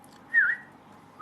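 A single person whistles one short rising-and-falling tone near the mic, then a second brief whistle begins at the end, with quiet background and no talking.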